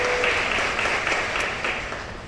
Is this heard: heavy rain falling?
no